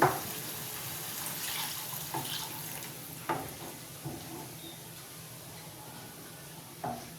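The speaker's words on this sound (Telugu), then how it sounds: "మీకు ఎంత వాటర్ కావాలో అంత వేసేసుకుంటే" Water added to tomato rasam cooking in a pot, a faint watery pour and soft bubbling with a few small clinks, no speech.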